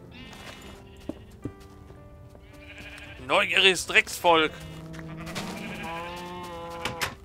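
Sheep bleat in the video game Minecraft, several wavering calls clustered near the middle of the clip, moderately loud, along with someone talking over the game sounds.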